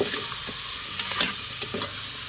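Vegetables with sardines fry in a pan under a steady sizzle, with a few distinct scraping stirs of a utensil against the pan standing out near the middle; close and without speech.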